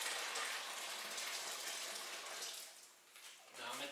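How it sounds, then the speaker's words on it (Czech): Hot water gushes steadily into a vessel during home-brewing of a pale ale, a dense, continuous rushing pour that eases briefly near the end before surging again. "Dáme tam horkou vodu."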